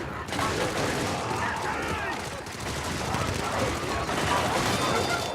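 Dense, sustained automatic gunfire in a sci-fi shooter as a soldier fires on roaming bug patrols, bursts layered with booming impacts for the whole stretch, loud and continuous without pause.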